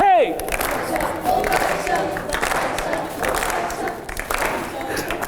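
An audience claps and cheers after a Hindi film song at a live show, a steady loud crowd roar with applause and shouts, and voices talking over it.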